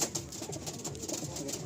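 Andhra pigeons, a breed kept for tournaments and sale, coo in soft repeated throaty pulses, fairly quiet and close, with no one speaking.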